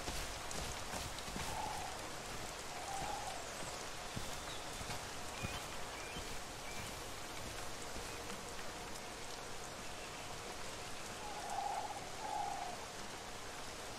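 Rain falls steadily in the video game The Isle, a constant hiss throughout, faint and even, with a few brief animal-like calls in the background.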